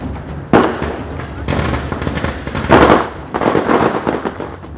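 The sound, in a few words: firecrackers bursting after Diwali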